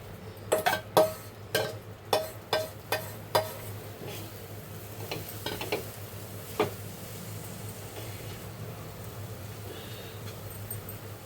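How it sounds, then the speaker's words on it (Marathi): A thick mawa and sugar sweet mixture being stirred in a pan, with a series of sharp spoon scrapes and taps early on that thin out into occasional clicks over a low steady background, no voices. "हे मिश्रण आता याच्यात आपण मिक्स करूया"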